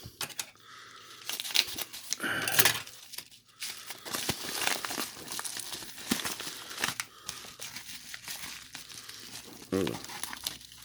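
A paper envelope holding trading cards is torn open and handled up close, giving bursts of crinkling and rustling with sharp tearing moments, while someone talks over it.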